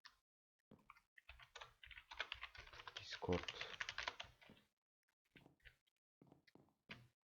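Someone types a chat message on a computer keyboard in a Minecraft Skyblock server, with rapid close key clatter for a few seconds, then scattered single keystrokes, while a voice talks partly over it.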